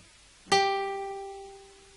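A single clean guitar note from the Jingle Bells chorus is plucked and left to ring, decaying slowly and sounding fairly soft, with nothing else around it.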